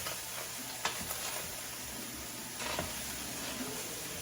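Onions and mushrooms fry in a pan with a steady close sizzle and hiss, broken by a few light clicks and scrapes of stirring.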